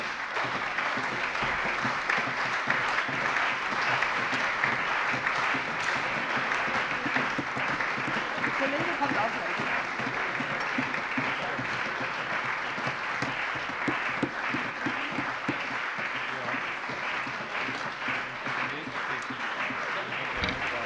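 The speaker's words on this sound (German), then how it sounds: "Applaus" Sustained applause from members of the Hessian state parliament after a constitutional amendment vote, a dense, steady clapping lasting the whole stretch at an even level, with no voices rising above it.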